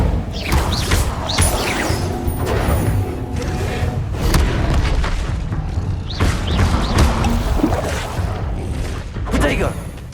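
Hogwarts Legacy spellcasting and combat effects, with booming bursts, crashes and thuds layered in a dense, loud stream of game sound that fills the whole stretch.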